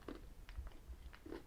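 A bite into crunchy Cadbury Darkmilk chocolate with cocoa pieces gives a few close, soft crunching snaps and some chewing, faint and alone with no talk.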